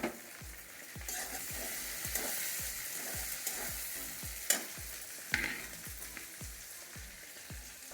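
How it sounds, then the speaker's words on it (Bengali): Green chillies and tomatoes sizzle with ginger and garlic in a pan for a spicy chicken curry, while a spoon scrapes and taps in a steady, repeated rhythm over a soft, continuous frying hiss, with no voices. "এখন দিয়ে দেবো কাঁচা লঙ্কা, দিয়ে দিচ্ছি টমেটো"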